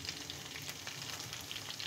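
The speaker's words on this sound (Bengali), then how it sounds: "এগুলোও আমি জাস্ট 5 সেকেন্ডের জন্য ভেজে নেব।" Chicken legs frying in hot oil with ground spices, giving a steady, dense sizzle that runs unbroken and close, with no talking.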